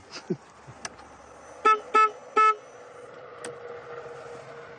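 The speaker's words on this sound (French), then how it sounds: "je klaxonne" A car horn honks three quick times in a row, clear and near, at a property in California, followed by quiet idling and faint ambient sounds.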